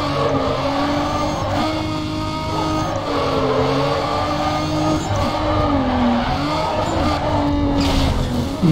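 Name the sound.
Dodge Challenger drifting in Need for Speed Carbon video game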